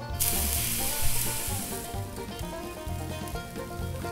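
Banana halves sizzling on a barbecue grill beside picanha beef, a steady crackling fry close by with no talk over it.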